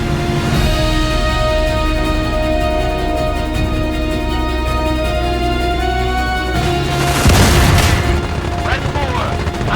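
F-51 Mustang strafing a ground target in IL-2 Korea, a loud sustained engine drone with gunfire bursts and booms building toward the end, with no talk.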